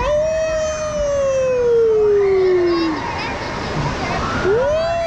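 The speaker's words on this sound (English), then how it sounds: "Did you hear the wolf call?" A loud piped wolf howl sound effect plays over an indoor wave pool at a water park lodge, one long falling howl then a rising start of another, over constant splashing water and nearby voices.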